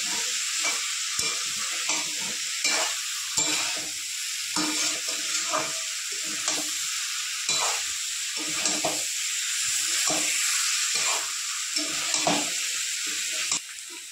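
Boiled potato and taro being sautéed in a pan for a Bengali curry with mankochu, a steady sizzle broken by repeated scraping stirs, close and continuous with no talk.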